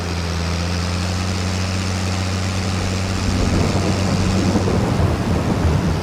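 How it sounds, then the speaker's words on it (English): Rain and a low rumble of thunder in Farming Simulator 22, with a droning engine hum underneath; the rain's hiss swells noticeably partway through and keeps going. "Darn it, the rain started."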